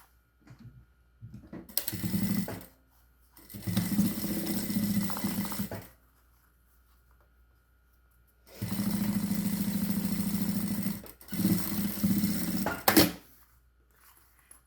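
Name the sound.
sewing machine stitching a seam along fabric edge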